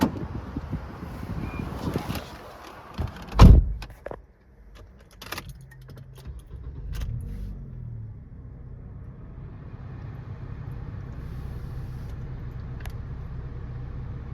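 Keys jangle, then the engine of a 2011 Nissan Qashqai cranks and fires with a sharp burst near the start. It settles into a low, steady idle hum with a few clicks, and no one talks.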